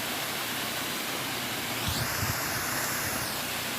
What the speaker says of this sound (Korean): 폭포물이 지금 물이 별로 없을 때인데도 물이 많이 흘리고 있네요